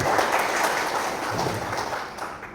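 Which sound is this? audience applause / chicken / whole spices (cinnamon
audience applause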